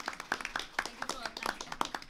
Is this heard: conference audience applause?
yes